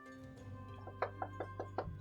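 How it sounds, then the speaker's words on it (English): Five firm knocks on a door, spaced in a steady rhythm, sounding over a low continuous hum and background music with no voices. "I knock on the door."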